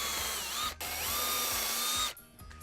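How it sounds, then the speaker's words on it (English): A power drill bores a pilot hole in wood for 1/4 inch lag bolts, with a close, loud whine that dips briefly once before spinning down and stopping near the end. "Get a little pilot hole going."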